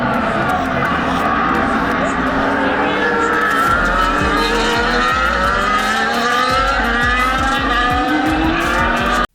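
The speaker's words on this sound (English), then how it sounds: "listening to the sound of that V8 engine in action" V8 Formula 1 cars racing at the Austrian Grand Prix, heard from the grandstand at turn 3, their engines a loud, continuous high-pitched whine with rising and falling pitch sweeps as cars pass.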